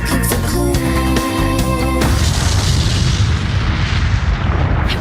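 A loud bomb blast from a movie trailer erupts after about two seconds of music, a dense wall of rumbling boom that swells and rolls on to the end.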